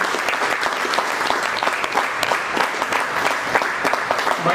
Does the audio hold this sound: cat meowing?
no